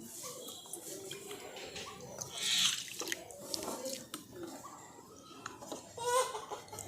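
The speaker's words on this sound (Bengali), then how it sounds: "আমি আরেক বাটি জল দিয়ে দেবো।" A bowl of water is poured into thick rice flour batter for patisapta, a soft splashy trickle with a couple of louder gushes and faint background sounds.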